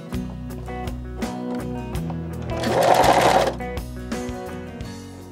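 A sewing machine stitches a seam in fine fabric with a rapid, even mechanical chatter that speeds up into a denser whirring burst midway and then eases back down, close and loud with no talking.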